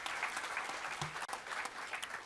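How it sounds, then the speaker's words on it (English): An audience at the Mandela Washington Fellowship Southern Africa Regional Conference gives a round of applause, a thick, sustained wash of many hands clapping at a steady level with no talk. "I'm going to ask you to give all of them a round of applause."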